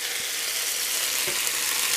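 Okra and squash fry in a pan for Southern fried okra, a loud, dense, steady sizzle and crackle filling the moment as the pieces are flipped, with a faint thump near the end.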